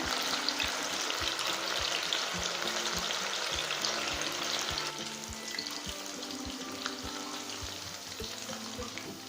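Chicken 65 pieces fry in hot oil with curry leaves, giving a dense, bubbling sizzle with faint regular ticks beneath. The sound is louder at first and eases to a softer, steady fry partway through.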